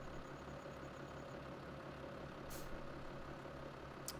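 A New Holland tractor in a farming video game idles with a low, steady, constant rumbling drone, and a couple of brief hissing bursts cut in over it.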